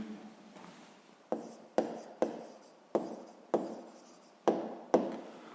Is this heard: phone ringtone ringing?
no